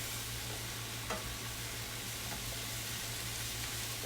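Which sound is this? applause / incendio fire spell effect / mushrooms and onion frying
mushrooms and onion frying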